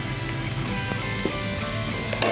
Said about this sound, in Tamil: இஞ்சி பூண்டை வெங்காயத்தோடு சேர்த்து வதக்கிடுவோம்.